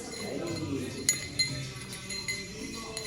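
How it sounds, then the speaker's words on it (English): Metal bar spoon tapping and pressing mint leaves into a glass during a cocktail class at Casa Bacardi, Puerto Rico, giving a few light clinks against soft room murmur. "pick up your bar spoons, go to the flat side, and we are going to gently press our mints into our glass"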